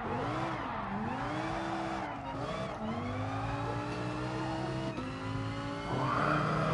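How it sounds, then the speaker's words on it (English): Tires squealing as a car drifts in GT Sport, a sustained wavering screech that rises and bends in pitch over a steady engine drone, loud and continuous with a brief swell near the end. "You start drifting again."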